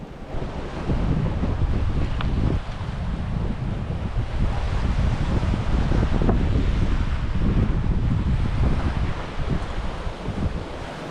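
Wind rushing across a sailboat crossing the Caribbean Sea, a loud continuous roar buffeting the microphone with rumbling wave and water wash underneath, steady throughout with no voices.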